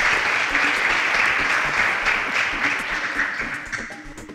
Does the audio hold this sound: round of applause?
yes